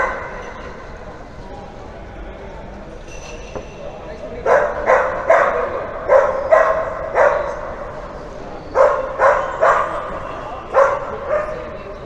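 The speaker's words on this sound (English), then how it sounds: "Doggy's not very happy there." An unhappy dog barks repeatedly nearby in Santa Cruz, two clusters of sharp, evenly paced barks after a few quiet seconds, with faint background sound underneath.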